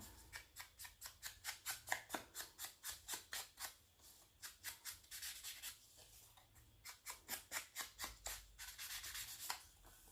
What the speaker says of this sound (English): you can just do tiny little snips on each corner